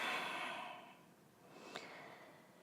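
A long, soft breath out during a gentle yoga flow, a breathy exhale fading over about a second, followed by quieter breathing and a faint click, close and without talk.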